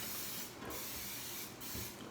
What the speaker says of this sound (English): I'm going to spray this pan and get it ready for the dough.